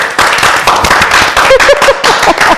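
People join in loud, close clapping during a live show, a burst of sharp, rapid hand claps that keeps going for a few seconds, with a voice briefly calling out over it midway.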